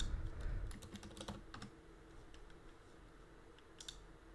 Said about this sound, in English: Just type in hello.